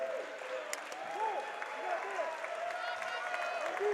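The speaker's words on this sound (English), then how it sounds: "Nice round of applause for Armstead." A crowd at a high school boys basketball game between Mountlake Terrace and Stanwood gives a moderate round of applause, heard as soft clapping under a commentator's talk and squeaking shoes.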